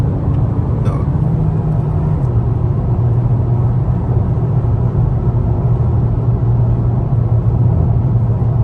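A 2021 Honda Civic Sport Hatchback driving under light throttle, its engine a steady low cabin hum blended with road rumble, gently rising as it accelerates with no talk over it.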